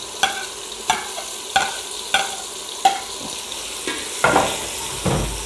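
Garlic and chili sizzle in a pan while being stirred, a soft frying hiss punctuated by about nine regular scraping strokes of the spoon.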